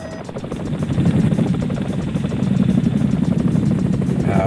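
A helicopter's rotor thumps in a fast, steady rhythm with a low droning engine, loud and close throughout.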